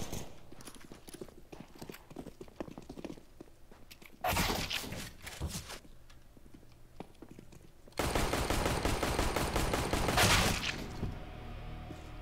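Gunfire in a video game comes in two dense rapid-fire bursts, the second longer and louder, following a stretch of quieter clattering footsteps.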